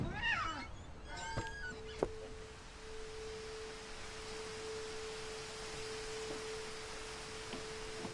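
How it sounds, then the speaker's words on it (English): Cat meows in the video game What Remains of Edith Finch, two or three quick close meows at the start, then a steady faint electronic hum over quiet ambience, no talking. "Heard a cat."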